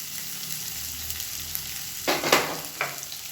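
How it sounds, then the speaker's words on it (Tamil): Long-sliced onions and dried red chillies sauté in a pan for a tomato-free chutney: a steady, soft sizzle runs throughout, broken near the end by a few sharp scraping stirs of a spoon. "வெங்காயம் நல்லா வதங்கணும்"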